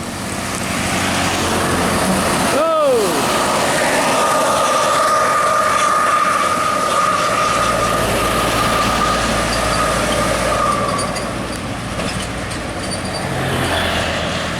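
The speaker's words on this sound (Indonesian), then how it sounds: "Satu unit Bumarang Jaya Eksekutif Plus melintas menuju ke rumah makan Omega di jam 11:21." A Bumarang Jaya Eksekutif Plus intercity bus passes on an Indonesian road with a loud, steady roar that fills the whole stretch, and a brief falling horn-like tone sounds near the start.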